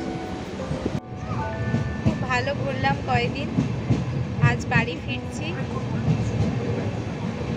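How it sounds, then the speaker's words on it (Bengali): Steady rumble and rattle of a moving passenger train carriage leaving Puri, with people talking nearby over the continuous noise. "আমাদের ট্রেন ছেড়েও দিয়েছে"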